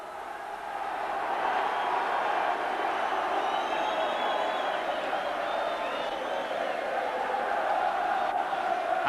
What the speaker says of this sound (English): And this crowd is waiting for this one.